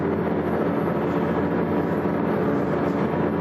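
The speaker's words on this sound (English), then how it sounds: "I heard the tractor upshift and throttle back." A farm tractor engine drones steadily in a field, throttled back to a constant, loud, broadband hum with no talk.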